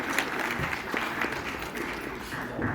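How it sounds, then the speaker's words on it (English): Moderate applause from an audience at a political party's anniversary gathering in Canada, scattered claps merging into a steady patter at middle distance. "Please give yourselves a clap"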